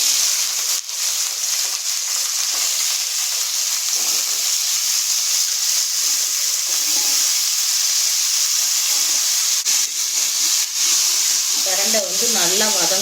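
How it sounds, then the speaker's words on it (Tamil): Pirandai frying in coconut oil in a pan gives a steady, broadband sizzle and hiss that holds evenly throughout, with a faint voice entering near the end. "இப்போ நம்ம தேங்காய் எண்ணெய் ஊற்றிக்கலாம். இப்போ அதுக்கு பிற்பாடு பிரண்டையை வந்து போட்டுக்கலாம்."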